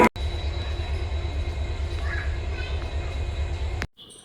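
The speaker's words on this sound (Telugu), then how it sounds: "ఇదో మన ట్రైన్ వచ్చేసింది, నాందేడ్ ఎక్స్ప్రెస్ ఇది." The Nanded Express rolls into a station at midnight with a loud, steady rumble and repeating wheel clatter close by, then cuts off abruptly near the end, leaving quieter station noise.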